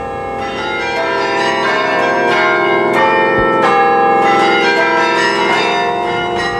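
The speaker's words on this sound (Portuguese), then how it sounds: "carrilhões são conjuntos de sinos" Carillon bells ringing in a tower of the Mafra convent in Portugal, loud overlapping metallic strikes with long ringing tones in a continuous peal, no voices.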